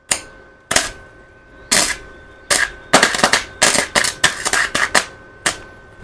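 A cheap Harbor Freight welder striking and welding in short bursts, a series of loud crackling sputters and pops separated by brief pauses, close and with no talk.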